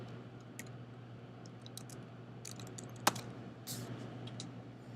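Computer keyboard typing a file name while saving a data file on a computer: a few sparse, light key clicks with one sharper tap, heard alone over a steady low room hum.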